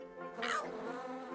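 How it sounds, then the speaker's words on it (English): Bees in a video game buzz in a steady, close, harmonic drone that swells loudly for a moment before settling back to a constant hum, with no voices. "Do not pet the bees."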